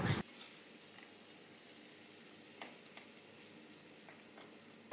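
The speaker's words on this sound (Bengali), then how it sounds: "ওই তেলেই একটা মিডিয়াম সাইজের পেঁয়াজ কুচি করে কেটে নিয়েছি সেটা ব্রাউন করে ভেজে নেব" Chopped medium onion frying in oil to brown after potatoes, for a Bengali bhetki fish kalia: a steady close sizzle and crackle throughout, with a few soft stirring clinks and no talking.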